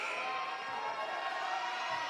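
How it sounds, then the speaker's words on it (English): A boisterous crowd at a college basketball game between Calhoun and Coastal Alabama South in Brewton keeps up a sustained roar of cheering and shouting, broad and steady from a distance, with no single voice standing out. "a boisterous crowd on hand"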